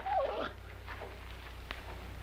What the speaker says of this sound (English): If you ain't the beatin'est dang dog I ever seen.